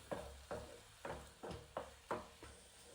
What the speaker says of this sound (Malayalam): ഇതേമാതിരി പിന്നെ ഇളക്കിക്കൊണ്ടേ ഇരിക്കുക.